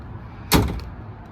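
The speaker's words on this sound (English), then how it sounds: "What a solid door it is now." A Tesla car door fitted with foam insulation closes with a single solid, muffled thump, close and brief against a quiet background.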